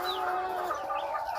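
Chickens clucking in a steady, busy stream, several birds close by with overlapping calls and no talk over them.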